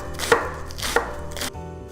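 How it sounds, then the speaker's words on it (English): A kitchen knife finely chops cabbage on a cutting board: a few crisp, close, rhythmic chops with no talking. "We need about 2 cups of finely chopped"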